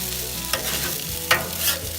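Kung Pao Chicken ingredients with finely cut cabbage stirred and tossed on an outdoor griddle, a steady close sizzle broken by two sharp scraping strokes of the spatula.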